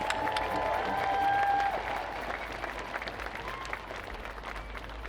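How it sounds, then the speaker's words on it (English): An outdoor rally crowd at Tollefson Plaza, Tacoma, claps steadily in sustained applause, with a few brief cheers rising over the dense patter. "Let's give them another round of applause."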